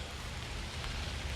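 Steady rain falls on an outdoor dog-training field, a soft, even hiss of drops that holds at a constant level for the whole moment with no voices over it.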